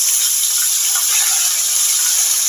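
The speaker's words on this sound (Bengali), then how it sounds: "এই তেলের মধ্যেই আমি ফুলকপিগুলো ভেজে নেব।" Cauliflower florets frying in hot oil in a home kitchen pan, giving a loud, steady, unbroken sizzle that hisses evenly throughout with no voices.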